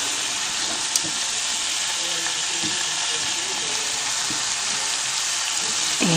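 Tandoori chicken marinated in yogurt sizzles loudly and steadily on a hot tawa while pieces are flipped, with a dense continuous frying hiss and occasional soft scraping throughout.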